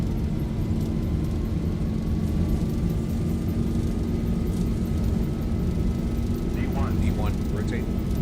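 Boeing 737 jet engines roar steadily through a takeoff roll in the X-Plane 12 flight simulator, a loud continuous rumble with a rising whine, while a person talks briefly over it near the end.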